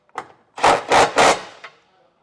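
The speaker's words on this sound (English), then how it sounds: "I'll use a 19mm socket and get all of our hardware snugged up." Three loud, evenly spaced grinding or rasping strokes ring out close by as a socket wrench tightens the 19mm bolts of a trailer hitch receiver on a 2026 Chevrolet, with a softer stroke before and after.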